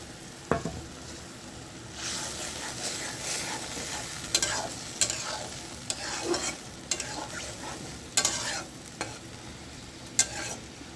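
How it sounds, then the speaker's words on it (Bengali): Fish and plantain curry stirred in a pan, a spoon scraping and knocking in sharp bursts over a steady low simmer and sizzle, fairly close and with no voices. "একটু নাড়া দিয়ে নিই, একটু নাড়া দিয়ে নেব।"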